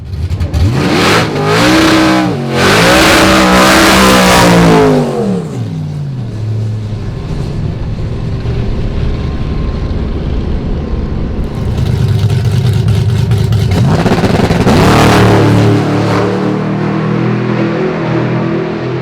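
The drag race car Sick Seconds 2.0 makes a pass at The Rock. It is loud and close, the engine revving hard through several rising sweeps as it launches and shifts, then fades to a lower drone before roaring past again.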